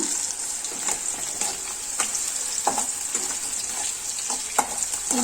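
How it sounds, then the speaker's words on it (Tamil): Elephant foot yam (karanai kizhangu) deep frying in hot oil, a steady bright sizzle running throughout with scattered pops and spatters, fairly close and without talk. "இன்னும் கொஞ்சம் நல்லா டீப்பாக ஃப்ரை பண்ணிக்கோங்க"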